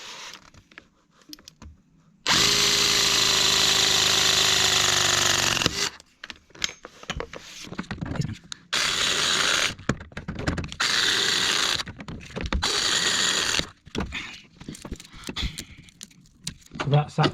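Battery plumbing press tool crimping a 15 mm copper pipe fitting: one loud, steady motor whine lasting a few seconds close by, followed by clicks, handling noise and several shorter bursts of buzzing.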